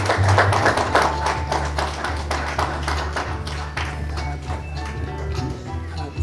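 Audience clapping at a Korean award ceremony runs through as a plaque and prize are presented, moderate and even, with a low steady hum and faint voices underneath.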